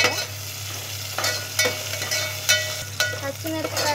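Green chillies frying in a pan as they are stirred for a village-style potato tomato curry, a steady sizzle with several sharp scraping strokes of the spoon, close and loud.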